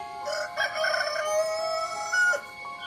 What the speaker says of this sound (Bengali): সন্ধ্যের পর তারা একটা বুনো মোরগ নিয়ে এলো।